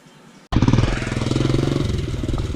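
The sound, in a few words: strange engine noise from a Honda CG 125 motorcycle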